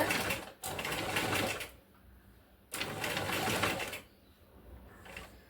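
Sewing machine running in two bursts of steady mechanical whirring, stitching along the edge of a blouse neck piece, with short pauses between runs and no talk.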